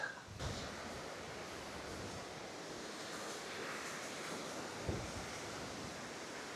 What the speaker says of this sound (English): that is not white noise, that is the weir.